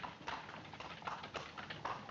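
A horse's hooves clip-clop steadily on a street as it pulls a cart through a 1940s city scene, the beats close, regular and fairly loud over a faint background.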